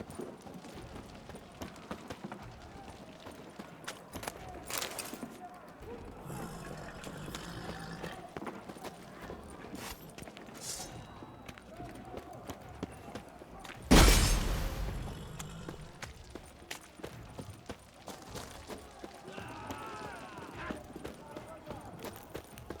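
Horses galloping in The Witcher 3, a steady clip-clop of hooves running through a busy game soundscape with voices talking over it and a sharp crash midway.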